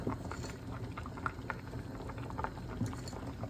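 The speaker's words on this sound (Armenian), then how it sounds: "Հինգ րոպե թող եռա" Armenian harissa of wheat and chicken bubbles in a pot, a steady low burbling boil with soft pops throughout, heard alone and close.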